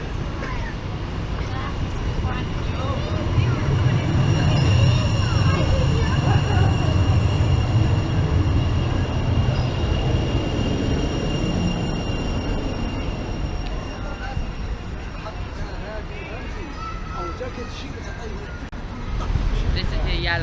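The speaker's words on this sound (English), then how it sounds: "here's yet another tram-train vehicle on test" A Sheffield Supertram tram-train vehicle on test rumbles past at a station, a steady low rolling drone over roughly twenty seconds, with platform crowd babble and voices mixed in around it.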